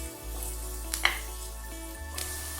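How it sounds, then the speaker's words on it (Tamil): Onions and green chilies sauté in a pan for mint coriander rice, giving a faint, steady sizzle with a couple of soft stirring clicks near the middle. "வெங்காயம் பச்சை மிளகாய் ஒரு 2-3 நிமிஷம் வதங்கட்டுங்க"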